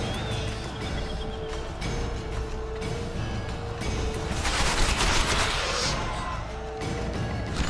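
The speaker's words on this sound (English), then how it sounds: "Take cover! They're shooting!" Gunfire in a battle: dense, continuous volleys of overlapping shots and cracks, loud and sustained throughout, with a heavier surge of firing near the middle.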